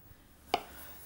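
A knife cuts once through a hard-boiled egg with a rich yolk, a single short, crisp tap of the blade on the board, close and alone against a quiet kitchen.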